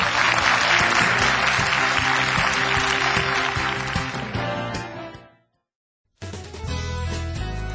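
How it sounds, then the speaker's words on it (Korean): The studio audience of a Korean televised CEO lecture applauds loudly over a musical backing, the clapping fading out into a brief silence before the music resumes. "힘찬 박수를 부탁드리겠습니다"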